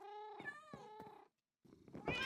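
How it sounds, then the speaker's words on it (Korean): Several cats meow in a video game, with a few distinct drawn-out meows in close succession, a brief silence, then more overlapping meowing, loud and near. "고양이 너무 많아 시끄러"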